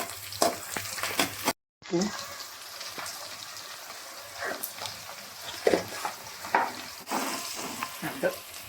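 Fenugreek leaves frying in a pan for a Sunday tiffin, just before egg goes in; a crackling sizzle with scraping stirs and intermittent louder spatters, briefly cut out near the start.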